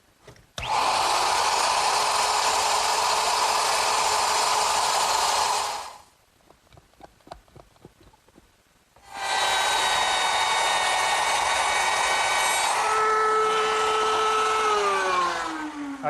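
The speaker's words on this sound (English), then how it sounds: "I'll complete the cut with my router" A router cuts a dovetail joint in wood while guided by a clamped plywood guide. A loud, close, high whine runs for about five seconds, gives way to a quiet pause of faint clicks, then starts again and winds down in pitch near the end.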